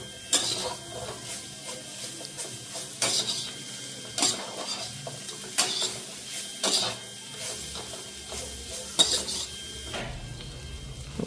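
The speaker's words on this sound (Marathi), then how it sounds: "पनीरला पण मिक्स करून घेऊया आपण." A spoon scrapes and knocks steadily inside a pan as paneer is stirred into pulav, with repeated clinks at irregular intervals and no talk.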